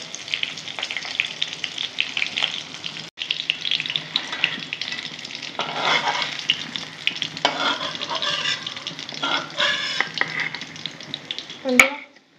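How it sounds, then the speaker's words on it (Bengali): Small topse fish frying in hot oil, a continuous crackling sizzle with occasional stirring scrapes and a sharp clink near the end. "আমি তোপসে মাছগুলো ভেজে নিচ্ছি লাল লাল করে"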